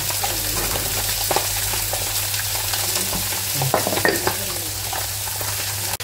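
Sea bass fillets sizzle on a hot griddle, a dense, constant crackle and spit with a few sharper pops, close and loud throughout with no talk.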